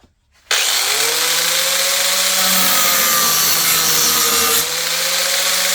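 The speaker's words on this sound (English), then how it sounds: "Let's sharpen the blade, shall we?" Blade from a 48-inch mower deck on a Scotts / John Deere lawn tractor being sharpened with a power grinder: abrupt start into a continuous loud, high-pitched grinding whine with steady scraping, a slight drop in intensity near the end.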